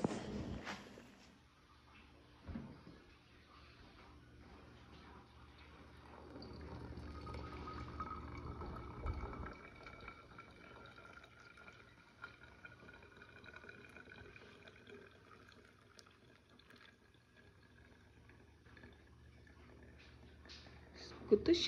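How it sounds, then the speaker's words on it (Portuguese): Water boiling in a pot for coffee in a rural farmhouse kitchen, a steady low bubbling hiss that swells and fades, with voices nearby. "sua água tá fervindo."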